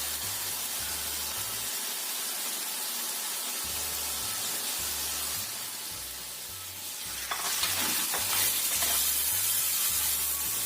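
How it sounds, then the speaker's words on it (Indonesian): Chicken sautéing in a hot pan after the aromatics, a loud continuous sizzle and crackle with the hiss flaring louder near the end as it is stirred, no talk. "Kita tumis sampai cium bau enak."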